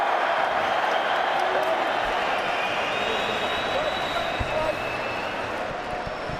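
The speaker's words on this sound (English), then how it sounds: "This is called a crowd." A large stadium crowd cheers at a boxing event in Principality Stadium, a dense, sustained roar of many voices that stays loud and steady, with a few sharp thuds near the end.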